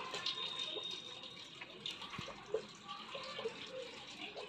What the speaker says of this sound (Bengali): তাই আমি মাসির গাছের সব জল দিয়ে দিচ্ছি।